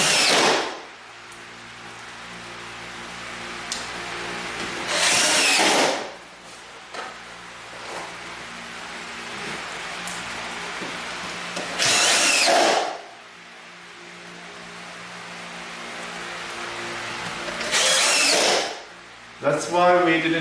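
Power drill driving screws through drywall into framing studs, three loud bursts of whirring a few seconds each with quiet pauses between, and people talking at a low level in the gaps.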